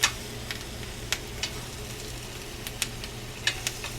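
Vegetables sizzling and charring in a hot skillet, a steady soft frying hiss with scattered sharp pops and crackles spaced irregularly throughout, close and moderately quiet.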